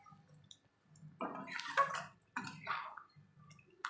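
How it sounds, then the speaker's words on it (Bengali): A little bowl-rinsing water is poured into a spice paste frying for mustard-poppy seed chicken, giving close bursts of splashing and hissing sputter over a quiet background, with no talk. "বাটি ধোয়া জলটা দিয়ে দেবো"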